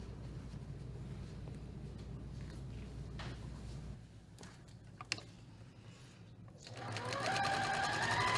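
A sewing machine stitches quilt pieces along a quarter-inch seam, its steady motor hum running for several seconds, pausing briefly, then starting up again louder near the end.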